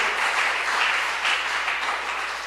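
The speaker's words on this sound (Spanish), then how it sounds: "Demos un aplauso al Señor" A church congregation breaks into a brief, loud, continuous round of applause, with dense clapping filling the room.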